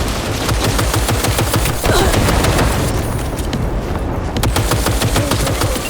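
Gunfire in the video game Cyberpunk 2077: dense, loud automatic bursts and rapid shots fire almost without pause, with booming impacts layered over a continuous battle roar.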